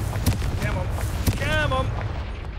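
A Confringo blasting spell cast in Hogwarts Legacy goes off with two sharp booming impacts and a fiery crackle, followed by a warbling magical shimmer, all over a steady rumbling game background.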